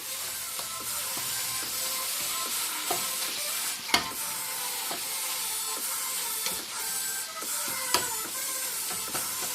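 A spoon stirs goulash seasoned with paprika in a pan over a soft, steady sizzle, with scattered scraping clicks and a few sharper knocks against the pan.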